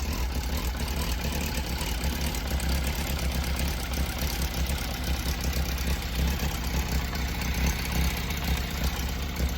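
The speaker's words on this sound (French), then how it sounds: "Alors je sais pas si on va entendre le cliquetis de distrib." A cold Yamaha Fazer 600 motorcycle engine idles steadily and close by, with a continuous mechanical clatter from timing chain rattle running through the even, unbroken drone for the whole stretch.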